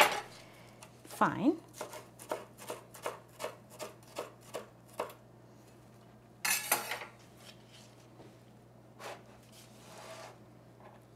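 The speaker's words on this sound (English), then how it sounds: "And with the mint, I just chop it" Fresh mint being chopped with a knife on a board, a run of about ten steady rhythmic cuts, close and distinct, followed by a louder rustle and a few scattered taps; a brief word is spoken.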